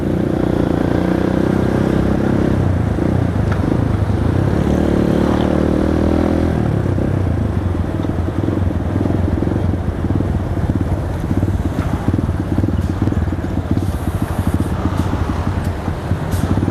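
A motorcycle rides through traffic, its engine droning steadily close by with a shift in pitch partway through, wind buffeting the microphone and faint clatter from surrounding vehicles.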